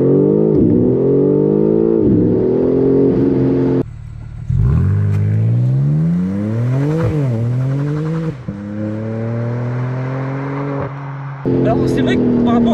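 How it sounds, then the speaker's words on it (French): BMW M4 Competition six-cylinder engine revving loudly under acceleration, pitch climbing and dropping through several gear changes with brief lifts, heard from inside the car while people talk over it. "au niveau de la sonorité, on sent que c'est un 6 cylindres quand même, mais un 6 cylindres amélioré"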